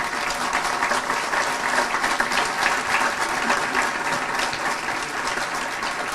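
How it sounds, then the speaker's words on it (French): A plenary assembly audience in Rennes applauds as guest Bernard Cazeneuve is welcomed. Dense, loud clapping from many hands fills the hall evenly and without a break. "Je vous demande de l'applaudir"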